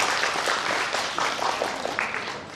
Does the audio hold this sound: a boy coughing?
no